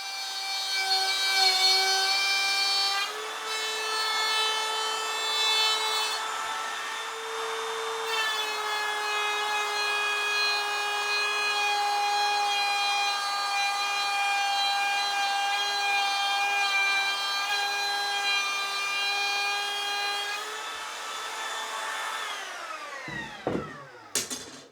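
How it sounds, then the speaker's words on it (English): A router cuts a dado in plywood with a steady, high whine held for about twenty seconds, then spins down at the end, with no talking. "I've cut a thin strip that'll space the router over just enough to make the dado the right width"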